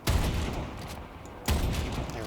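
Gunfire aimed at a hyena in the Warframe video game: two separate loud volleys of shots, one at the start and another about a second and a half later, each trailing off into a rumbling tail.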